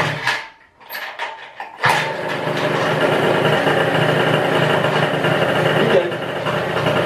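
An MBK 51 moped is kicked over with a few sharp clanks and a brief voice, then its small two-stroke engine catches and settles into a loud, steady buzzing idle close by.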